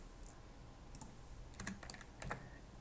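Keys clatter on a computer keyboard in short bursts of close, quiet clicks, several quick taps clustered toward the end over a faint background hum.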